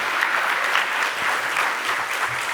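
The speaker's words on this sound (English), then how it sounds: "give them a big round of applause" A crowd at an event at TheTimesCenter applauds, a dense and even patter of many hands clapping that continues at a steady level for the whole stretch.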